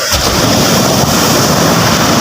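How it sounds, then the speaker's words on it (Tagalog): Ocean waves pounding a beach in the Philippines, a loud, dense roaring wash of surf close by with wind buffeting the microphone, no voices. "Dinig nyo naman siguro ang dagundong ng alon."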